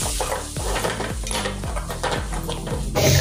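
Spices are stirred into a sizzling pan for a home-cooked vegetable dish, with repeated scraping strokes of a spoon on the pan over steady frying sizzle.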